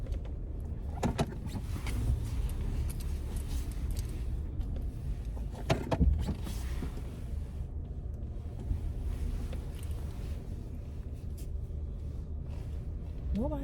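A car pulls in and parks, its engine a quiet, low rumble beneath a few soft clunks, then a brief whir of a power window, with faint voices in the cabin.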